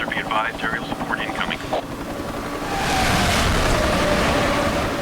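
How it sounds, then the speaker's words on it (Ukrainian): A helicopter in the racing game Need for Speed: Hot Pursuit (2010) rises into a loud, steady rotor-and-engine roar in the second half, after a stretch of car engine and game noise, with someone talking over it. "Гелікоптер я застосував."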